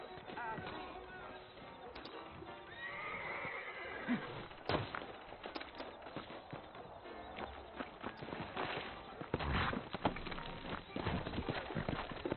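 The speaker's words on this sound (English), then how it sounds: "You ain't gonna find sturdier horses than these in all of New Ulster." Horses whinny and snort in Red Dead Redemption while hooves clip-clop steadily on hard ground, with muffled voices and game ambience in the background.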